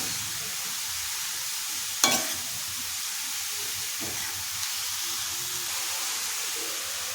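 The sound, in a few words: frying cabbage and vegetables in a pan for bread toast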